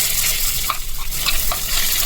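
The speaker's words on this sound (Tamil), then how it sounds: "ஆனியன் நல்லா வதங்கட்டும், நல்லா ப்ரௌன் கலராக வரணும்." Finely chopped onions fry in coconut oil for Kerala-style coconut prawns, giving a loud, close, continuous sizzle with small crackling pops throughout.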